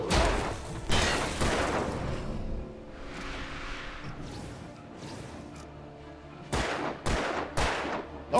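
Gunshots from Alan Wake Remastered ring out in loud sharp bursts, several at the start and a quick cluster near the end, with a quieter stretch between and occasional talking.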